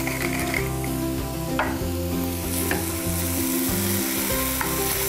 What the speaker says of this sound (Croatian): I pržimo na srednje jakoj vatri